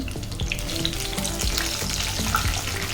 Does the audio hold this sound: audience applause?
no